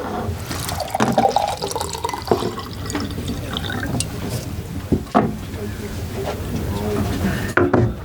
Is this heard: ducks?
no